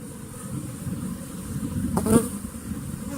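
A steady, dense buzzing of a honeybee swarm being poured from a box into a hive fills the clip, with a brief louder rustle partway through.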